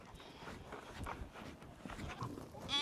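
Sheep and goats crowd around at feeding time, with scattered close bleats and bustling movement amid shuffling noise in a farmyard.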